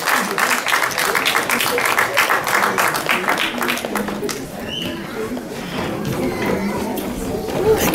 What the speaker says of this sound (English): And give another round of applause.